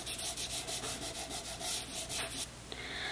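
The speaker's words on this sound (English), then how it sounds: "So let's rub that bit out." An eraser rubs out pencil on a self-portrait drawing, with rapid, close, scratchy back-and-forth strokes in a steady rhythm that stop abruptly near the end.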